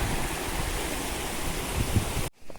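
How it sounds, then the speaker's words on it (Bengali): A hillside waterfall rushes with a steady, full roar at close range, then cuts off abruptly just before the end. "আর ওখানটাতে আছে ঝর্ণাটা"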